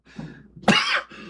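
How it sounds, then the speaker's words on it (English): An old man coughs once hard, with a rough throaty hack and some throat clearing, close and alone. "listen to that old man cough"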